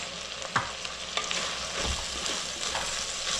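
Onion greens fry with turmeric and chili powder in a pan, a continuous crackling sizzle broken by scraping stirring strokes, close and without voices.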